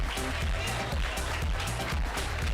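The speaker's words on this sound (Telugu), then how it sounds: "claps to all" Applause from an audience clapping for the winning teams at a prize ceremony, a steady, dense wash of many hands lasting throughout, fairly loud and close, with some voices mixed in.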